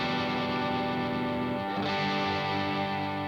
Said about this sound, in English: you even got a really great reverb pedal here, giving a little bit of breath